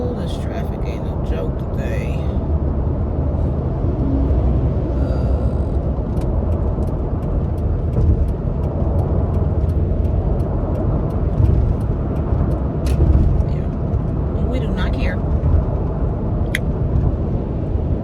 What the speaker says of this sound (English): this traffic ain't no joke today.